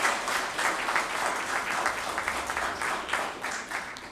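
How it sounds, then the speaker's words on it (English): Audience applause for AP Computer Science students at a governor's computer science education announcement, a dense, steady wash of many hands clapping close by, sustained throughout without talk. "Please give those students a round of applause for their success."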